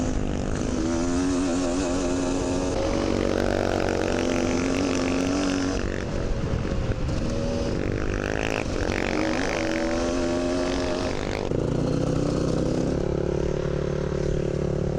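A dirt bike on a fundraising trail ride races past on its back wheel, its engine loud and close with a rising and falling rev that holds throughout.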